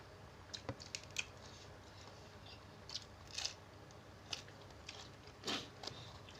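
Crunchy fried chicken, marinated and fried over fire, eaten alongside Lao-style spicy papaya salad, crackles in a few short bites and chews spread across a quiet background, close and fairly faint, with no talking.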